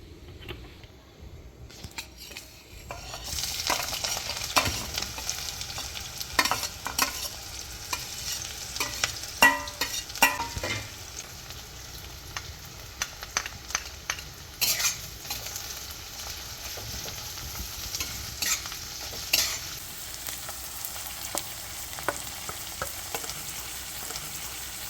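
Meat and spice paste fry in mustard oil for an Assamese dish, with a continuous sizzle and frequent sharp clinks and scrapes of a spoon stirring against the pan, close and steady throughout.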